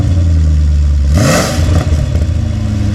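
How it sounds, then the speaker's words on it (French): A BMW 540i E39 V8 with a custom stainless exhaust, valve closed, idles loudly, then blips through a quick rev that rises and drops back to a deep rumbling idle. "Il va accélérer rapidement. Là, c'est valve fermée."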